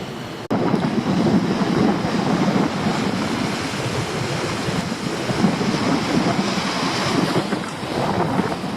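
Steady rush of ocean surf washing onto a beach as the tide comes in, with constant wind buffeting the microphone and no talking.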